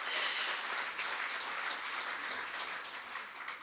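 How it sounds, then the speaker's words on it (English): Audience applause at a panel discussion in northeast Arnhem Land, a continuous, even patter of many hands clapping that holds steady for several seconds. "So round of applause for that."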